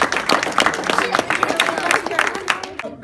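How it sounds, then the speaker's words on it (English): An audience claps together at a motivational talk, a dense, steady patter of many hands that holds for about three seconds with no voices over it. "All right, clap it up."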